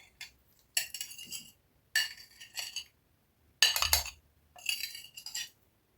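Two metal spoons fold herring pieces into mayonnaise and mustard in a bowl, giving four or five separate bursts of clinking and scraping with quiet gaps between them, close and clear with no talk.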